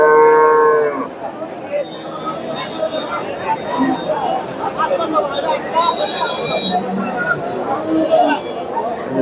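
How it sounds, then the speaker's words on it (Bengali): A Jersey cow moos loudly at the start, followed by a busy outdoor cattle market crowd murmur with people chattering and occasional animal sounds. "এখানে একটা জার্সি গাভী দেখতেছি"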